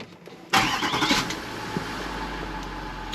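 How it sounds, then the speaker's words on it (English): A Range Rover L405 with disconnected exhaust sensors and a faulty turbine shutoff valve cranks and fires up with a sudden loud burst, then settles into a steady low idle. "start the car."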